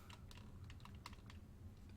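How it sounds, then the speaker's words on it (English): Keys pressed on a Dell Rubberdome keyboard give soft, quick tapping clicks in an irregular typing rhythm, quiet and close with no voice. "So like when you press a key, it has a bump."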